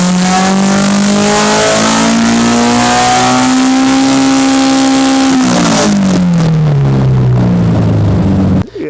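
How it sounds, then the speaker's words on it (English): A loud, aggressive Honda B-series engine revs up close, its pitch climbing slowly and holding high before dropping away, then cutting off abruptly at the end. "this is a very, very aggressive, very pissed off B-Series engine."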